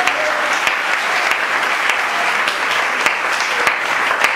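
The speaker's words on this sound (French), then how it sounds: "donnez-moi l'acclamation pour vous" A church congregation in Cameroon claps loudly and continuously during a sermon, a thick sustained burst of applause with a few sharper individual claps standing out, lasting about four seconds without speech.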